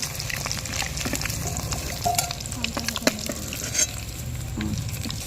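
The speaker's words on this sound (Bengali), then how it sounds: "মা এখন ডিমটা ভাজবে সেই জন্য কড়াইতে তেল দিয়ে দিয়েছে তেলটা গরম হয়ে গেছে" Eggs seasoned with salt and turmeric fry in hot oil in a wok, giving a close, continuous crackling sizzle with a few light scrapes and clinks of a utensil.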